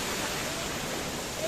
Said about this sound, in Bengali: দেখতেই পাচ্ছেন এটা হলো 7 সিস্টার ওয়াটারফল।